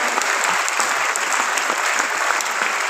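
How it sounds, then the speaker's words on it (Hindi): Loud, dense applause from an audience at a live birthday celebration event, steady clapping throughout without pause. "मैं चाहूंगा एक बार जोरदार तालियों के साथ उनको यहाँ पर बुलाया जाए।"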